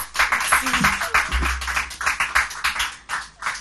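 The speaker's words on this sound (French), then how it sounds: "On applaudit" Studio audience applauding a contestant on a French-language TV quiz game show, Un Mot Un Prix: dense, steady clapping at close range that rises and falls slightly across several seconds, with a voice talking underneath.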